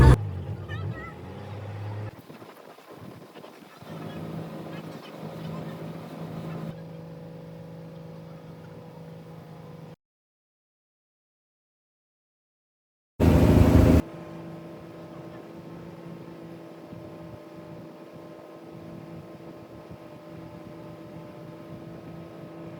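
Steady engine drone of a motorized outrigger bangka boat on a ride in Boracay, continuous and fairly close, broken by a short gap of silence and a sudden loud burst, with faint voices at times.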